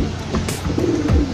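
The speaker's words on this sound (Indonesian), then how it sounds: "Terus di sini ada merpati Lahore" A Lahore pigeon coos up close, its soft throaty calls rolling out in a short burst with no talking.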